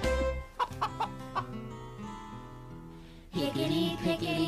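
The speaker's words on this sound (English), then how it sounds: "I had a little hen, the prettiest seen." A hen clucks in a few short bursts over a sustained musical backing in a children's counting sing-along, with a louder burst of music and voices near the end.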